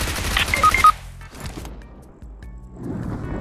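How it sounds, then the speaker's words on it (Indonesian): Burst of gunfire from an enemy player in PUBG Mobile, a quick rattle of shots at the start, then scattered fainter reports with quiet gaps between them. "Ditembak orang ini pasti nih."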